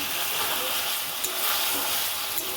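Spice masala for aloo dum frying in oil, a continuous dense close-up sizzle with faint stirring.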